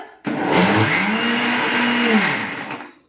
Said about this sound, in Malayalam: ഇനി നമുക്കിത് അടച്ചു വെച്ചിട്ട് നമുക്ക് മിക്സിയിൽ അടിക്കണം